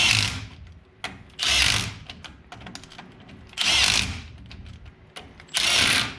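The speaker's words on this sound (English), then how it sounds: "remember to torque it to spec with the impact" An impact wrench tightens brake parts on a Chevy/GMC 3500 HD Duramax, firing in four loud bursts of about half a second each, separated by quieter clanks and tool handling.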